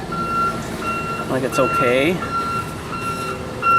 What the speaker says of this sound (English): That's the garbage truck just backing in here